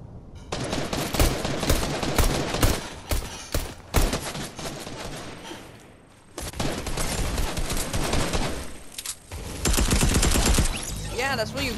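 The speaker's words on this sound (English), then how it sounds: "Stop shooting me!" Rapid bursts of automatic gunfire in the Fortnite video game come in dense volleys with brief pauses, a long sustained stretch in the middle, loud and close.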